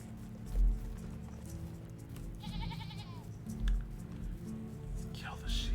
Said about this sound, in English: Let's kill the sheep.